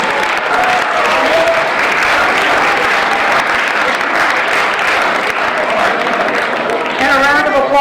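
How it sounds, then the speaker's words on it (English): A room of listeners at a 2018 congressional candidate meeting gives the candidates a round of applause, steady and dense throughout, with a voice cutting in near the end. "Could we have a round of applause for our candidates, please?"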